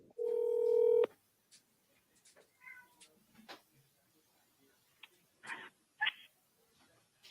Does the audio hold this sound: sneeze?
no